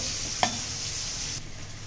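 Steady, close hissing sizzle of potatoes frying in hot oil, with one sharp clink of a utensil near the start.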